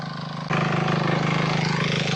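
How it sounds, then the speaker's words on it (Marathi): A steady, low tractor engine rumble chugs along nearby, jumping noticeably louder about half a second in and holding that level, with no talking. "आता काकी ट्रॅक्टर चालवणार आहेत"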